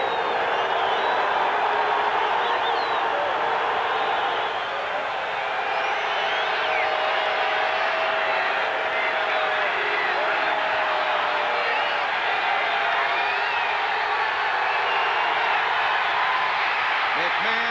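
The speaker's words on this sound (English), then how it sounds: "The defensive team has been asked to assist with disruptive crowd noise" A roaring NFL stadium crowd in 1989 keeps up a loud, sustained wall of disruptive noise and cheering, steady from start to finish, with a broadcaster talking over it.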